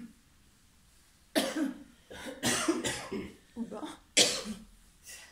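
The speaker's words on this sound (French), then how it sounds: "Une crise de tousse. Ça tousse." A run of harsh, repeated coughs in close succession, close to the mic, with a few breaths and short vocal sounds between bursts.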